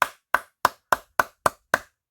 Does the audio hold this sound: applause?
yes